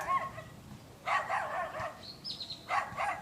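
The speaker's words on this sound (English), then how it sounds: "You hear that other dog?" A second dog barks somewhere off to the side, a few short, moderately loud bursts that come and go over the few seconds, with outdoor background noise.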